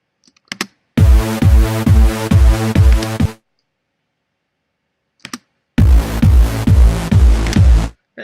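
Synth lead run through a gate effect, chopped into sharp rhythmic pulses in two loud bursts separated by silence, each burst a steady stutter of evenly spaced hits.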